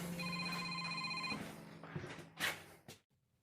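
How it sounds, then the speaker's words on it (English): A telephone rings with a steady electronic tone for just over a second, then cuts off, followed by a few soft knocks and rustles nearby. "I had a phone call from my daughter"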